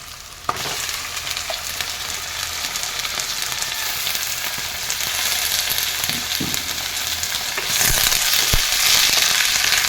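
Chicken pieces sizzle and crackle as they fry in a softened spice paste for a carrot chicken curry, a steady hiss that swells louder toward the end, with a few stirring clatters and no talking.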